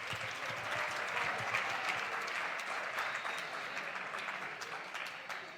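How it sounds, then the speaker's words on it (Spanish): Audience applause for an instructor at a training event, a dense steady clapping that holds through the whole stretch at moderate volume. "Un aplauso para el profe, por favor."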